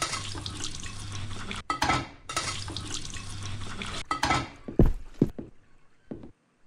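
Water gushing from a broken kitchen pipe in an indie horror video game, a strong steady rush mixed with clanking dishes and metal mechanisms, breaking off into short clunks and splashes before fading near the end.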